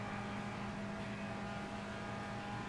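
Race cars roar at the 1965 Indianapolis 500, a continuous loud engine drone holding steady tones throughout with no break.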